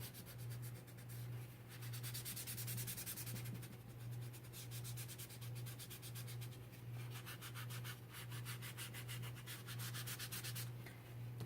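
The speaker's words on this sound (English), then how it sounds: "I'm going to do the tissue so you can see it. Just going to rub it in." Tissue rubbing oil pastel into paper to blend it, a faint, steady scrubbing with rhythmic strokes and a constant low hum underneath.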